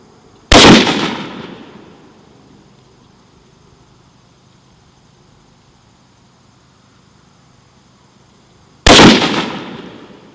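Two loud, sharp rifle shots from Hornady Critical Defense .308 Win 155-grain FTX rounds at a 25-yard outdoor range, spaced about eight seconds apart, each with a short decaying echo over quiet background.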